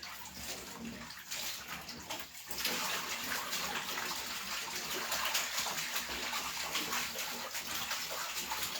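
Running water gushes steadily from a tap as garden cucumbers are rinsed for pickling and canning, a continuous close splashing wash with no one speaking.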